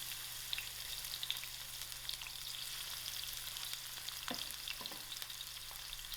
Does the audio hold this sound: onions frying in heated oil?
yes